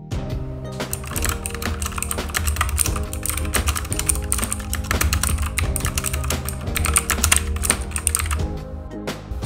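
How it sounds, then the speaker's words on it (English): Clicky blue-switch keys on a SteelSeries Apex 7 TKL keyboard are typed rapidly and continuously, producing dense, crisp clacking with steady rhythm, close and loud, with no talking. "I went with blue switches because I prefer the clicky keys during gameplay"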